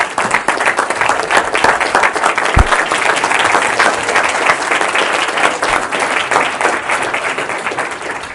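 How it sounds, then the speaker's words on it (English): A church congregation claps and applauds loudly, with dense, rapid hand claps forming a steady, energetic roar that holds throughout and fades slightly at the end. "Give the Lord a hand clap."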